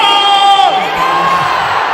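A large political rally crowd at the Estadio Azteca in Mexico cheers and shouts in unison, a loud, dense and continuous roar of many voices close at hand.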